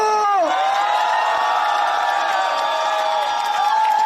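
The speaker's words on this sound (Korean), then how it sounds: "뜨거운 함성과 박수를 함께 해주십시오" A crowd at an outdoor Korean election campaign rally in Gongju cheers with a long, loud, drawn-out shout that rises and then holds steady, with faint clapping underneath.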